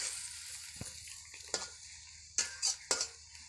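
A spoon stirs curry with coriander leaves in a frying pan, producing soft scraping and several sharp metallic clinks against the pan over a faint sizzle, with no talk.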